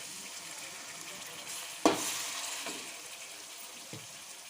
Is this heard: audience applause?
no